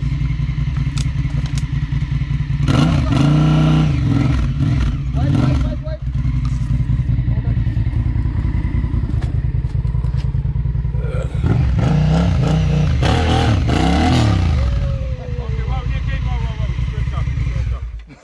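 A KTM dirt bike engine revs and labours on a rocky trail, a loud, continuous, near drone rising and falling with throttle blips, along with clattering and thuds from the rough ground.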